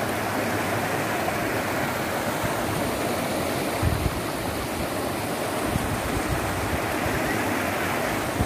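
A waterfall pours in a steady, dense rush of water, constant and fairly close, with no break or talk over it.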